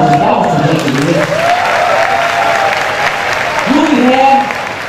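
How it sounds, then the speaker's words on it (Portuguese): Audience at a live stage show in Brazil breaks into applause and cheering, a steady, loud wash of clapping with raised voices and whoops throughout, while a voice carries over the crowd. "A salva de palmas, gente."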